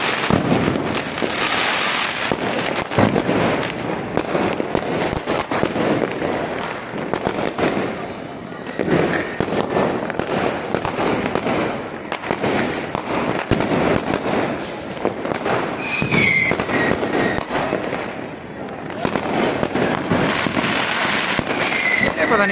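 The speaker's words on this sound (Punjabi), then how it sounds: "ਪਟਾਕਾ ਜਿਹੜਾ ਲਗਾਤਾਰ ਚੱਲਦਾ ਹੀ ਰਹਿੰਦਾ," Diwali firecrackers crackle and pop without pause, a dense, loud barrage of rapid bursts lasting throughout, as a long string keeps going off outdoors.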